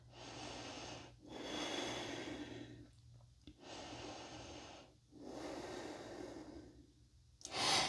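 Deep, audible breathing during a vinyasa yoga flow, three long rushing breath cycles close to the mic separated by short pauses, no talk.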